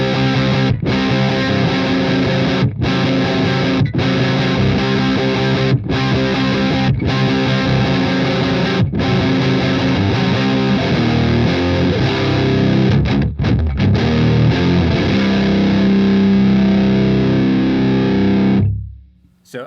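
An electric guitar played through a Fuchs Mantis Jr. amp with the gain fully up gives thick, heavily distorted chords and riffs, loud and sustained with brief gaps, ending in a held note that is cut off.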